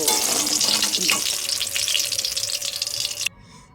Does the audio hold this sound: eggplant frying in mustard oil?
yes